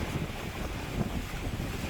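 A sailboat with one reef in the main, reaching on a beam wind gusting near 20 knots off Sabah, Borneo, at about 7 knots: steady loud wind roar and rushing water, continuous with no talk.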